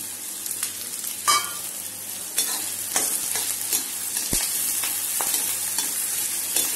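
Green chillies and curry leaves fry in hot oil in a pan, a steady close sizzle and crackle with occasional stirring scrapes and small pops, without any talk.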